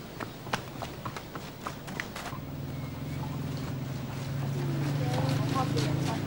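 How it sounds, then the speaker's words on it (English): Hooves of a herd of Exmoor ponies clatter along a lane in a quick, irregular run of sharp clops that thin out as a steady low drone rises beneath them. "The clatter of hooves in the lane announces the arrival of the main herd"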